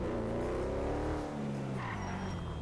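Car in the GTA 5 video game with its engine revving hard and tires squealing and skidding, a continuous loud throaty roar that holds through the moment.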